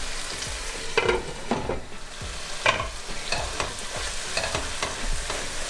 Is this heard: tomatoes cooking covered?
yes